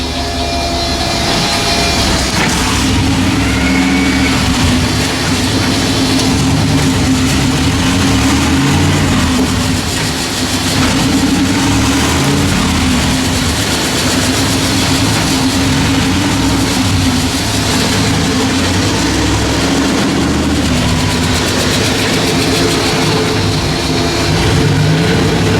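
Turbo LS-powered burnout truck, unmoved for years, rumbling loudly with a heavy low engine drone that swells and settles as it revs and starts creeping forward, close up with little talk.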